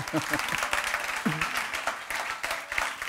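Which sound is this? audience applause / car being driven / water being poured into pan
audience applause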